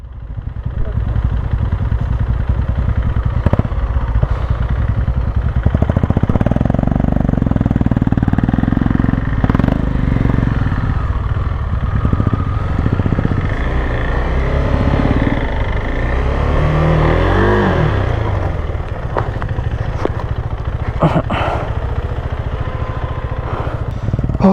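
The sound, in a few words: Royal Enfield Himalayan 450 motorcycle engine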